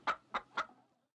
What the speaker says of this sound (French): Trouve toutes les poules et ramène-les au poulailler.